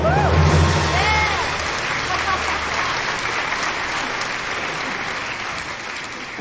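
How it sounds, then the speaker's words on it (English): A theatre audience applauds a stage debut, a loud, steady wash of clapping that holds for several seconds, with a few brief tones and voices near the start. "Now give us your applause and take it away."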